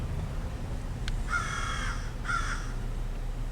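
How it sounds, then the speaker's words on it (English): Two loud, harsh crow caws about a second apart, heard outdoors in the rural South over a steady low background rumble, with a brief click just before the first call. "Got a lot of crows down here, a lot of chickens."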